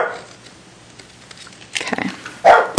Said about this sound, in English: Sorry about my dog barking in the background there.